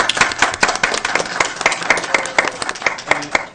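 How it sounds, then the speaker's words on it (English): A school board meeting audience gives a round of applause, distinct individual hand claps close and crisp, rhythmic and uneven, from a modest group with no talk over them. "let's give her a round of applause."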